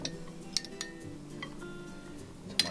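Chopped onion, jalapeño, poblano and tomatillo pieces dropped into a glass jar for fermented hot sauce, several light clinks and taps against the glass, scattered and close over a quiet background.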